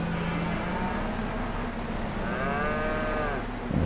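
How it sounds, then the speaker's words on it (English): Cattle lowing in the farming game Farming Simulator 22, one long drawn-out moo rising and falling over a steady low background hum, fairly close and clear. "We don't need it for these cows."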